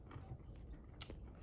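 Crunchy carrot pieces in Korean skewer jeon being chewed, a faint close-up run of soft bites and crunches over a low, steady room background.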